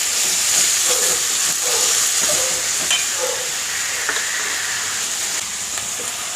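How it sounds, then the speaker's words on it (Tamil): Curry leaves and green chillies fry in hot oil, a loud continuous sizzle and hiss with occasional crackles and stirring scrapes, close and steady throughout. "நெக்ஸ்ட்டு கருவேப்பிலை, பச்சை மிளகாய் ஆட் பண்ணிக்கோங்க"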